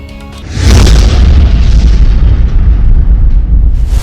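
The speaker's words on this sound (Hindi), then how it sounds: "किस तरह से ये रेडियो सेट में ये धमाका हुआ" A radio set explosion in Lebanon in news footage, a single massive boom erupting suddenly and rolling on as a loud, rumbling roar with debris-like crackle.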